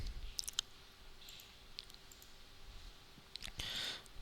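Faint computer mouse clicks while working in Android Studio, a few sharp isolated clicks spread out over quiet room background with no speech.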